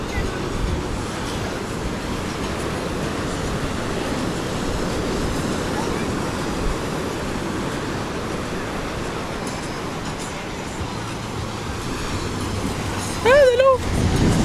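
Ocean waves roll and wash steadily onto a beach at Cayo Santa Maria, a continuous broad surf roar with some wind, and a brief sharp tonal sound near the end.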